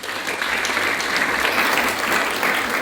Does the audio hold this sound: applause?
yes